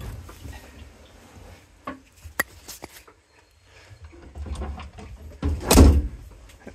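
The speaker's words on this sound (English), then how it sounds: "Let's say you close the door." A car door on a Daihatsu Mira L500V van is handled with soft clicks and knocks, then shut with one loud, close thump near the end.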